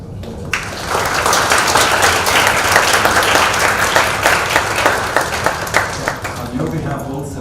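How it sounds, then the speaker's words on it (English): A convention audience breaks into a round of applause, loud dense clapping that swells quickly, holds, then thins into scattered individual claps toward the end. "maybe we can anchor the convention away with a wonderful round of applause"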